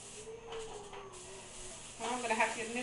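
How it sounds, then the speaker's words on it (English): Cooking spray hisses from a can into a greased bowl for coffee bread dough, a short, close burst of spray following a brief bit of talk. "I'm just gonna spray it."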